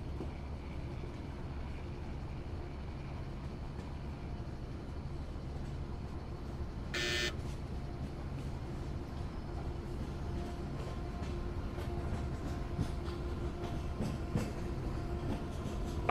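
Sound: local train passing, from a train simulator game

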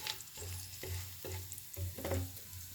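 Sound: whole spices sizzling in hot ghee

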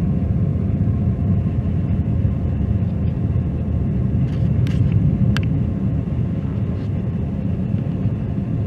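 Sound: Starlink rocket launch rumble, vehicle supersonic

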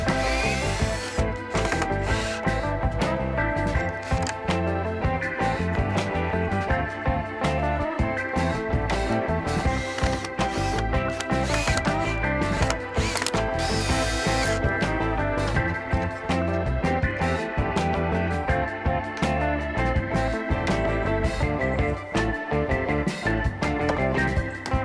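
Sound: power drill unscrewing and re-driving screws in wall framing

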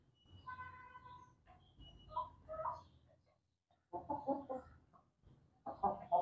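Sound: Brahma chickens clucking while eating

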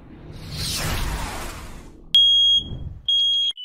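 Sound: smoke detector false alarm chirping

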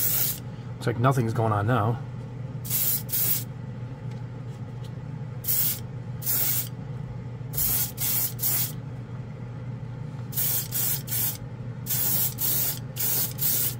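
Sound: Grex airbrush spraying color shift paint

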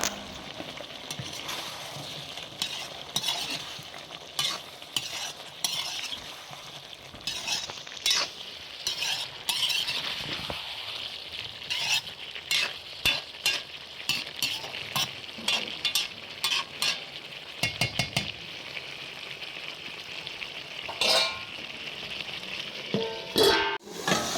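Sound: duck meat stir-frying with ginger and garlic

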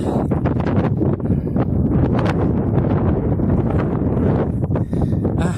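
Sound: strong headwind while cycling

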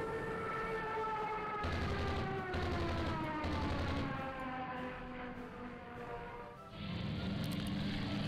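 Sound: carriers firing in video game Rule The Waves 2

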